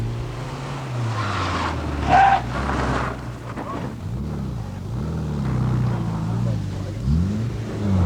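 A historic rally car on hard tyres slides sideways across loose, ball-bearing-like gravel at the 1990 Telford Stages. The engine note swells and dips under a rough broadband rush, with a louder surge around the second mark, heard from inside the car.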